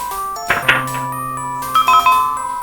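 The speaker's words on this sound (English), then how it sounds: "Doorbell. Doorbell. I'm coming. I'm coming. I'm clicking on the door." Doorbell chime from the horror adventure game Darkseed, two bursts of bright ringing tones with a lingering tonal hum between them, loud and clear with no talking.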